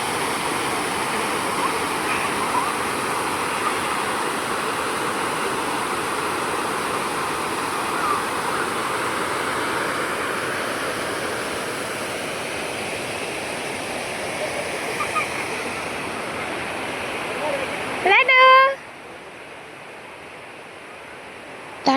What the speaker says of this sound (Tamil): தண்ணி போகிற சவுண்டு எப்படி கேட்குது பார்த்தீங்களா?